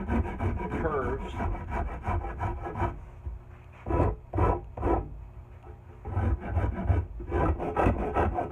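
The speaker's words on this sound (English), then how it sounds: "just going to smooth all these edges right into a nice smooth round curves" A wooden handle being smoothed and rounded along its edges with a rasp or file, giving a run of close, scratchy rubbing strokes with short pauses between passes.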